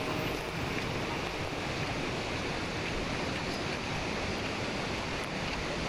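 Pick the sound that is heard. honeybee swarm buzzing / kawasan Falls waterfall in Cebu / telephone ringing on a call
kawasan Falls waterfall in Cebu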